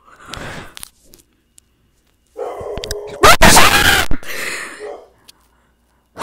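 A dog gives a few sharp barks and some whimpering amid a burst of loud rustling and crunching handling noise, with quiet gaps between the sounds.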